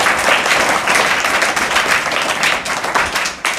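Loud, close applause from a group at a school gathering, with thick overlapping claps sustained for several seconds before tapering slightly at the end.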